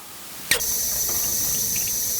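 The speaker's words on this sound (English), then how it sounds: "Do you all hear that? The water!" Water gushing from a tap as a stage sound effect, starting abruptly with a splash and then running as a steady bright hiss to the end.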